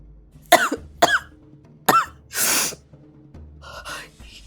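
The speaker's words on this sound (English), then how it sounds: "She coughed, blood staining her lips." A woman coughs several times in sharp, separate bursts, each followed by a gasping breath and then a longer rasping exhalation, close and alone with no talk over it.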